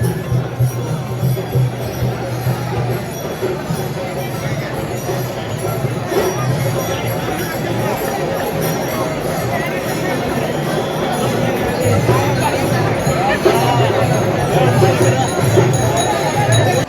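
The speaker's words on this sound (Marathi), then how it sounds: "भरपूर मोठ्या प्रमाणात तिथे गर्दी आहे" A huge crowd of devotees gathers at the Sant Tukaram Maharaj palkhi procession on the first day of the wari toward Pandharpur: a steady, dense hubbub of voices with occasional bell chimes and clinks, and someone talking close by.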